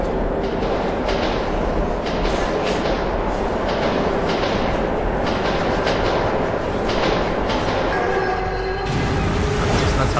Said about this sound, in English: That's how that train got there.